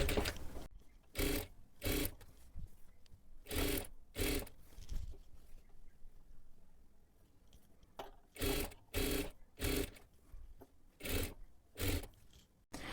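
A sewing machine stitches a piping strip onto a blouse neckline in short bursts of rapid close stitching, separated by brief pauses, with no talking.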